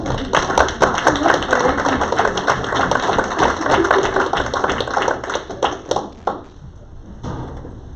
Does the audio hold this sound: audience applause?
yes